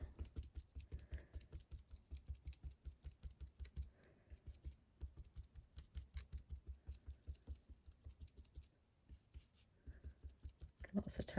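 A sponge dauber taps ink all over a deeply etched rubber stamp in a quick, steady run of soft, close pats that pause briefly now and then, quiet throughout.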